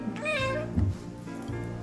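A small kitten gives one clear, high meow near the start, followed by softer rustling and light background noise.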